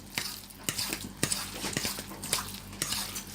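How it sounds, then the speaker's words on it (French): A spoon stirs a stuffed-tomato filling in a pan, with repeated sharp scrapes and clinks against the pan over a faint background sizzle, no voices. "Et on mélange."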